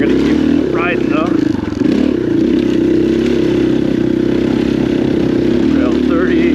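An off-road motorcycle runs a dirt trail at Stonyford OHV, its engine droning loud and steady up close with a brief dip in revs, and a rider talks over it.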